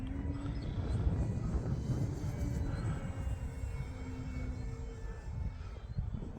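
An E-flite Extra 300 RC airplane flying a loop outdoors, its electric motor producing a steady, continuous drone with a slight rise and fall in pitch over gusty wind noise.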